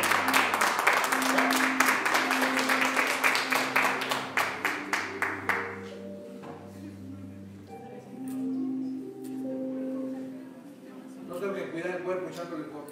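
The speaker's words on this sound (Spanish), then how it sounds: "Dale un aplauso fuerte a Dios." A church audience claps in a quick, rhythmic beat over sustained music, loud at first. The clapping thins and fades after a few seconds while the music and voices carry on alone.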